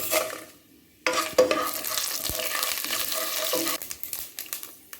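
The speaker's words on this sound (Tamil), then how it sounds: "எண்ணெய் நல்லா காஞ்சிடுது இப்போ நம்ம கடுகு தொகுப்பு இந்த ஜீரகம் வெந்தயம் காஞ்ச மிளகாய் போட்டுக்கலாம்" Mustard seeds, cumin, fenugreek and dried chillies hitting hot oil for sambar, a sudden loud burst of sizzling that settles into steady crackling and spluttering, close by.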